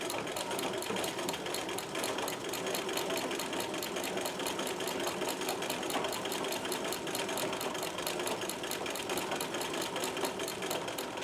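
A Singer 237 sewing machine runs steadily, stitching a zigzag with a continuous rapid mechanical chatter and motor hum, close and loud for the whole stretch with no talk.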